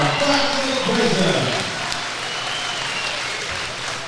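Spectators at a Scotland versus Ireland amateur boxing international applaud the boxers, broad steady clapping under a ring announcer's voice that fades out early on.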